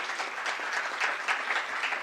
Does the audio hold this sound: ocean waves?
no